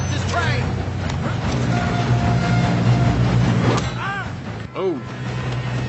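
A train runs in the Red Dead video game, a steady rumbling clatter under game voices, with shouts and gunfire-like bursts over it.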